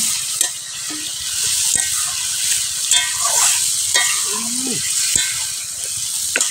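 Marinated chicken sizzles in a pan with onion, chili and spices for a village-style chicken and potato curry. The close frying hiss stays steady, with occasional stirring scrapes and clicks.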